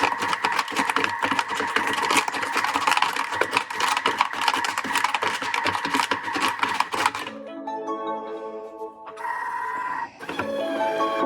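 A Thermomix at low speed 2.5 blends a peanut butter s'more smoothie, churning and rattling in a rapid rhythm for several seconds. It then cuts to quieter, tonal motor hums with short pauses.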